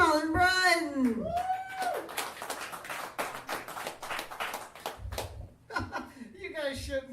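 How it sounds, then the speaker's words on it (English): Comedy club audience clapping for a comedian, a dense mid-loud patter of claps mixed with laughter and chuckles, with whoops and talk over it near the start and end. "You guys shouldn't be clapping for me."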